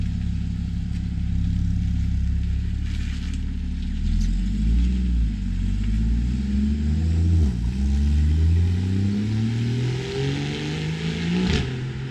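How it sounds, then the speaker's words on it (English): A Porsche Boxster driving away, its engine revving and accelerating with a rising and falling mid-pitched drone that shifts up through gears, loud and steady, with no talk over it. "Well, guys, there it goes. Goodbye, Boxster."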